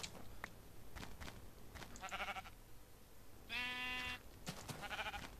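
Sheep bleating in the Minecraft farm-building game, with several distinct bleats over a low background hum, one long clear bleat in the middle, fairly loud and with no talking.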